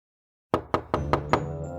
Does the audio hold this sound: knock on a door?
yes